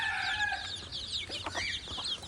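Chickens and a small chick feeding on BSF larvae give steady nearby clucks and soft calls, a continuous farmyard chatter with no voices.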